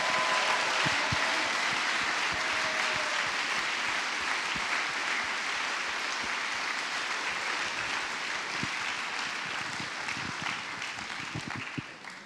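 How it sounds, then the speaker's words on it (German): Warm, sustained applause from a large audience in a park arena at a youth graduation event, honoring the teenagers; a broad, even wash of many hands clapping that thins slightly toward the end. "Gebt doch den Teenagern noch einen herzlichen Applaus."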